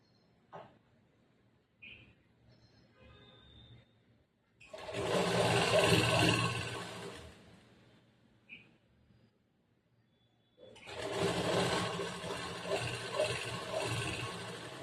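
A home sewing machine stitching fabric for chudidar semi-patiala pants runs in two sustained, close whirring bursts separated by quiet pauses that carry small clicks and handling noises.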